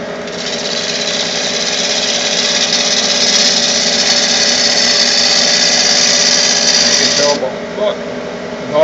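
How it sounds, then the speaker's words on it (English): A 5/8 bowl gouge rough-turns a wooden bowl on a lathe, producing a steady, loud, hissing scrape of cutting that holds for several seconds before abruptly stopping, leaving the motor's hum. "I'm still using my 5/8 bowl gouge"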